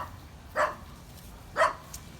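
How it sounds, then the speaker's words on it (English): Dogs bark at chickens outdoors, two short separate barks a second apart over a faint background, at moderate distance. "I think they're barking at the chickens."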